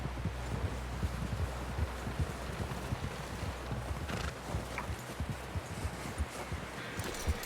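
Horse hooves clip-clop in Red Dead Redemption 2, a steady run of close, regular impacts over a constant low rumble and light wind noise.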